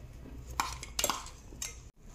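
Ground chili and garlic chutney being mixed in a metal vessel, giving a few sharp clinks and scrapes close by, with quiet gaps between them and no talking.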